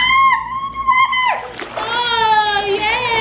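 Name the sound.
child jumping into swimming pool, water splashing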